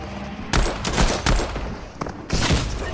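Rapid bursts of gunfire from a gun game match, several loud shots and volleys in quick succession with short gaps, close and dense, with no talking.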